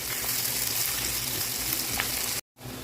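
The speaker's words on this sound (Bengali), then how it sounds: "পেঁয়াজটা একটু রসুনের সাথে ভেজে নেব।" Onion and salt fry with garlic in hot oil, giving a steady, close sizzle that cuts out briefly before resuming.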